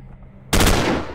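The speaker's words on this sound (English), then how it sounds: "3/4 of his health wiped out from the machine gun" Machine gun fire in the video game Stellar Tactics erupts suddenly after a quiet moment, a loud, dense burst that holds steady for most of a second and then tapers slightly.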